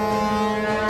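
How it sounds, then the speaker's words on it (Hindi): A train horn fitted to a wheelchair and set off by a green button blasts a single loud, steady, deep multi-tone honk, close and sustained for nearly a second. "अब वही ग्रीन बटन एक्टिवेट करेगा एक ट्रेन हॉर्न"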